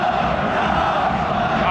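Football ultras behind the goal at a cup final derby chant and cheer in a dense, sustained roar from a large crowd, heard from a distance.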